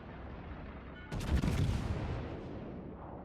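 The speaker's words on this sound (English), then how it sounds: "All stations, concentrate fire on the target." A single heavy naval gun salvo booms from the battleship Montana in World of Warships, a sudden loud blast that rolls and fades over about two seconds.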